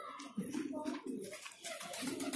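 A pigeon over 20 years old coos softly in a low, throaty rhythm, a few repeated murmuring calls close by and quiet.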